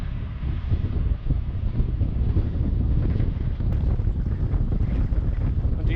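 Heavy wind buffets the microphone on a cold early-morning 300 km brevet ride, a constant loud roar with crosswind gusts from slightly ahead and no talk over it.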